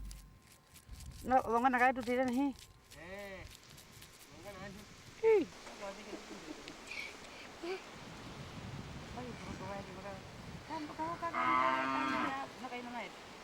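Cattle low in the Skeleton Coast desert as they are driven to wells dug in dry riverbeds. Several long, drawn-out moos rise and fall over wind and a rumbling outdoor background.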